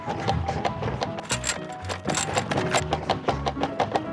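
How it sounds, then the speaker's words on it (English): Front fork suspension of an affordable e-bike compressing over bumps while riding, with a fender rattling against something, heard as repeated clunks and clattering knocks in a busy, uneven rhythm, close and moderately loud, with no talk. "with this bike, you got a front fork suspension that sounds like this."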